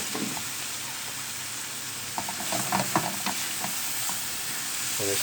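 Brinjal bharta stirred and fried in desi ghee, a continuous hissing sizzle with scraping spoon strokes building in the middle, close and fairly loud, with no voices.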